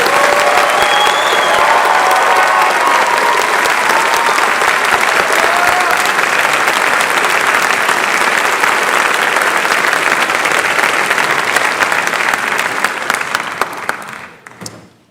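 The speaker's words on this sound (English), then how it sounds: "Let's give them all one more round of applause." A large crowd applauds at a Baylor Law School commencement, loud, dense clapping holding steady for about fourteen seconds before quickly fading out.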